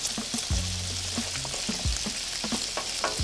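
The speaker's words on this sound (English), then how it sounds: "Give it a nice stir." Sausage gravy thickening in a pan as it gets stirred, a soft bubbling sizzle with low scraping and knocking strokes of the spoon at an uneven pace, close by with no talking.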